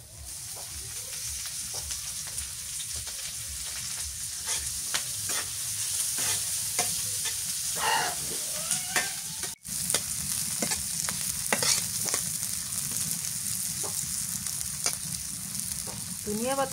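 Oil sizzles loudly and continuously in a frying pan during mashed-dish cooking, with frequent stirring scrapes and clatter, plus a brief dip around the middle.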